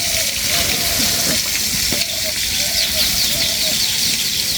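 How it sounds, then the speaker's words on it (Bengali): Shrimp frying in a pan on a stove during a wedding celebration, a steady sizzle layered with people talking nearby and faint bird calls in the background. "আরেক চুলায় চিংড়ি মাছ ভাজা হচ্ছে"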